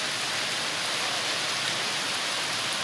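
Heavy rain falling outside, a dense, constant hiss of downpour striking surfaces, loud and unbroken throughout with no other sounds.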